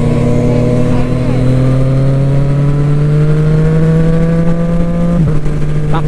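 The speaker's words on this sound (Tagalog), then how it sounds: "Oy, ano, reviewin mo na yung motor mo." Motorcycle engine held at high revs, a loud steady drone that rises gradually in pitch and then drops sharply near the end.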